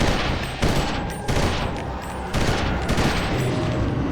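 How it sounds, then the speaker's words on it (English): A three-round burst weapon fires repeatedly in the video game Eternal Darkness. Several loud, dense bursts of gunfire come about a second apart, with no speech over them. "A 3-round burst."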